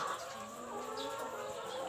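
Chickens and other livestock on a small farm just before feeding time, a steady mix of clucking and scattered bird calls carrying at moderate distance with no talking.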